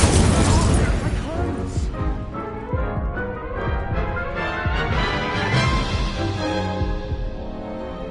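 A spell blast from the Incendio fire charm in the Hogwarts Legacy video game bursts out loudly, a dense crackling roar layered with game music and effects that stays steady across the stretch.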